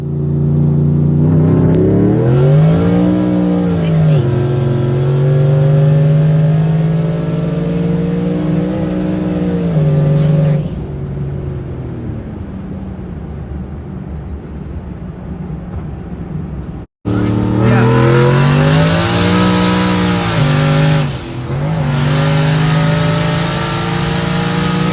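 A boosted Ford Foxbody running 12 pounds of boost accelerates hard on a test run, its engine revving loudly in two long pulls with rising and falling pitch, a quieter idle-like stretch between them, close and alone without talk.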